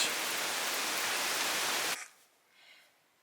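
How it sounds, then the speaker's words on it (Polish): Heavy rain pours in a dense, loud, continuous hiss for about two seconds, then cuts off abruptly, leaving faint background noise. "a tu leje jak z cebra"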